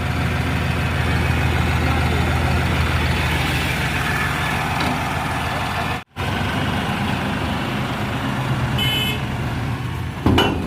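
A New Holland 5620 CRDi 4x4 tractor engine runs with a steady low diesel drone, close and loud, briefly cutting out for a moment midway before resuming, with no talk.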